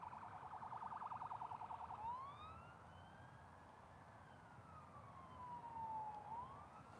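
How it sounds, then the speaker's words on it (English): A siren wails through rising and falling sweeps, with a rapid yelping burst at the start, heard at moderate distance over low background rumble. "Oh well, I can hear sirens."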